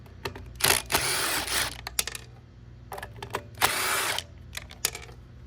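A power drill or driver whirs in short bursts while backing out 5/16 bolts on a Troy Bilt TB110 string trimmer during repair, with longer runs near the start and middle and brief clicks and handling noise between them.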